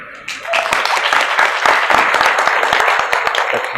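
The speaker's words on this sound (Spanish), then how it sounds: "Primero un aplauso para él." A crowd bursts into applause, many hands clapping in a dense, steady patter that holds strong throughout.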